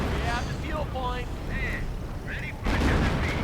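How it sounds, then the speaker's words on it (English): Artillery shells land in a 1v1 Company of Heroes match, a World War II strategy game, as dull booms and rumbling blasts with a sharper impact late on, all under steady game commentary. "Oh, artillery going in right there."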